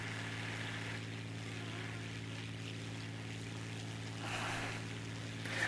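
Propeller engine of a Po-2 biplane in a video game, droning steadily and evenly throughout, a continuous close hum with a slight swell of wind noise near the end and no talking.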